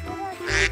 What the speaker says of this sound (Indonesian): Oh iya, ada suara bebek.